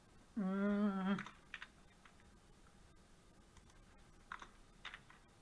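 Keys click on a computer keyboard during a Python programming lecture, a few scattered soft taps after a brief hummed tone at the start.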